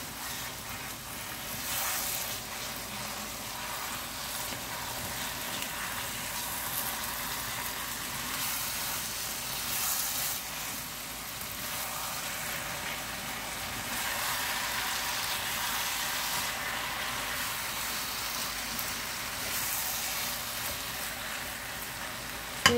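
Curry pumpkin with salt fish frying fast in a wok, giving a steady, dense sizzle that holds close and even throughout with no talking.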